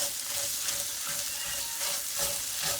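Pork medallions simmering in a mushroom cream sauce in a pan, giving a steady, close bubbling sizzle with soft stirring, alone and without talk.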